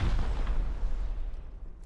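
Sustained heavy gunfire from a video game, a dense rumbling barrage of booming shots that stays loud and close throughout, with no clear gaps between bursts.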